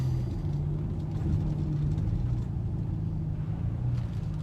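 Steady low rumble of a car driving through floodwater on a city street, a continuous engine drone and wash heard from inside the vehicle with no talk.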